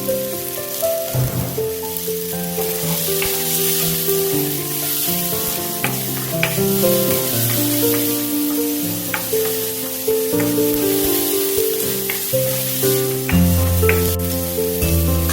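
Onion and spring onion fry in a hot pan for sweet and sour fried chicken, giving a continuous hissing sizzle beneath prominent background music.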